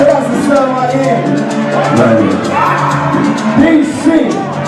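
A party crowd in a building cheering, whooping and shouting, loud and close and continuous, with voices rising over one another.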